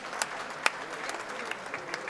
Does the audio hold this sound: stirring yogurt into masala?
no